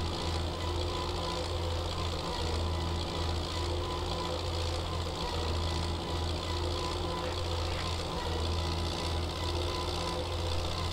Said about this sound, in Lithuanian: štai traktorius seka kombainą.